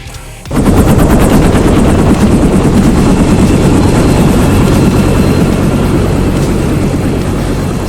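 A loud Japan Self-Defense Force helicopter roars close by, its rotor thudding in a steady rapid chop that fills the whole clip after a quiet first half-second.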